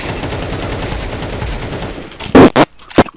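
Gunfire in Counter-Strike 2 played at an extremely low resolution: a dense, steady rattle of shots, then a few loud, sharp bursts near the end.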